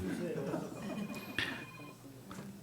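A phone rings inside a church during a Sunday morning service, a thin steady electronic tone lasting about a second amid murmuring congregation chatter and laughter.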